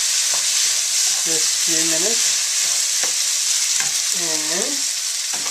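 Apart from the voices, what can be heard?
tomato cooking with onion and garlic in a pan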